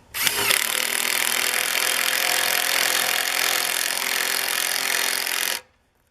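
An HFE 21 sawmill cuts through ash logs with a loud, steady, high-pitched saw roar that holds for about five seconds and then cuts off abruptly.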